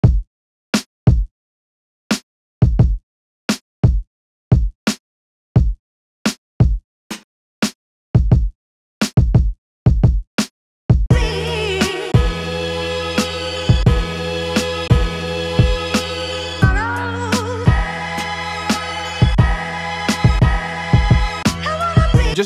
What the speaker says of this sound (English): So I put a little basic drum pattern onto our chops here, just using the drum sounds from that kit.